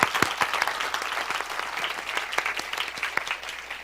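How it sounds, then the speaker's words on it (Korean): Enthusiastic applause from a sizeable church congregation during a sermon fills the room, dense and continuous with sharp individual claps popping through, fairly close. "잘 오셨다고 격려의 박수 한번 해주시겠어요?"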